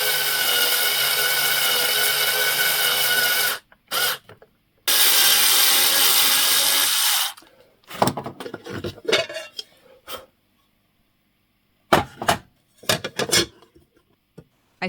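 A power drill runs in two long, steady bursts drilling a 4.2 mm hole, followed by a series of short metallic scraping and clicking noises as a 5 mm tap works threads into the plate.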